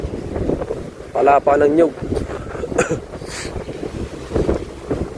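Strong storm wind and crashing sea waves at low tide outside a flooded house during a typhoon, a steady roaring buffet of wind noise against the microphone with surging surf, while a person talks over it throughout.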